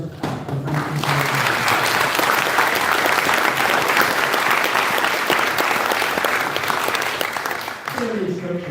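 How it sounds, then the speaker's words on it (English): An audience at a 2024 Eastbourne foodbank election hustings breaks into hearty clapping that swells quickly and holds steady, with a speaker's voice briefly audible just before it starts and again as it fades. "Let's give all of those a clap and thank"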